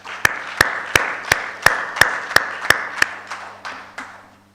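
Audience clapping for institutions at an academic event, heard as about ten evenly spaced, sharp claps in a steady rhythm over a constant low hum, thinning out and fading at the end.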